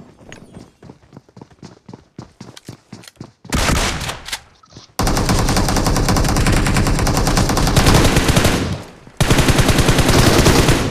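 Battle royale game gunfight: a string of sharp single shots at first, then loud, sustained bursts of automatic gunfire that pause briefly and resume, dense and close.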